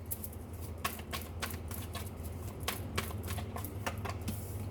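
Tarot cards are drawn and laid out one by one, giving a quiet series of crisp flicks and soft slaps over faint room hum, with no talk.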